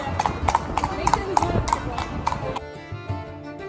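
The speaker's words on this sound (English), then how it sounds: "Riding the horse right now." Rhythmic clip-clop of horse hooves on hard ground, several even beats up close, then the steps stop and a low rumble remains.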